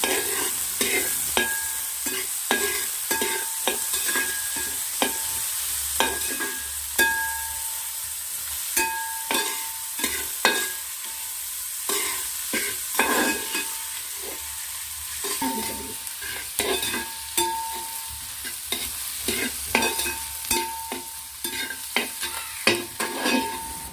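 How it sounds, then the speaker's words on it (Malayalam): Onions and shallots sautéing in a pan over a wood-fired stove until browned, with repeated clattering spoon strokes over a steady close sizzle running the whole time, no talk. "അപ്പോൾ അതും കൂടെ ചേർത്ത് നമുക്ക് നന്നായിട്ട് വഴറ്റി കൊടുക്കാം."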